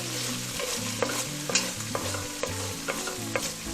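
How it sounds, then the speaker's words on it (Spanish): Chili pepper (ají) frying in oil for an escabeche de pescado, a continuous sizzle with sharp stirring scrapes and taps at a quick irregular rhythm, close up, while a steady tonal background plays underneath. "Dejemos un poco que dore también el ají."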